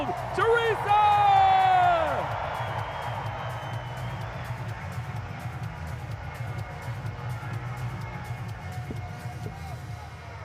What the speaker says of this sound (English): This sold-out crowd going crazy for you